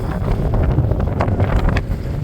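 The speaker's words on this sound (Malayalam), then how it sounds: "ഇത്ര നല്ല കാറ്റുണ്ട്." Strong wind gusts on a mountain top near Meesapulimala, buffeting the microphone with a loud, rumbling roar that rises and falls without voices.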